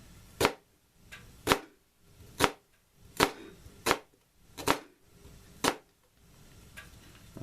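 A kitchen knife cuts a small onion into thin eighth-inch slices, seven or eight sharp clacks on the cutting board at a steady pace of roughly one every half to one second, close and clear.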